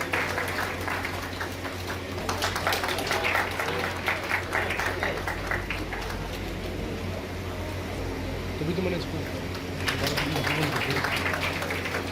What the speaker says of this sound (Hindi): आपकी तालियां देखो कितनी बढ़ती है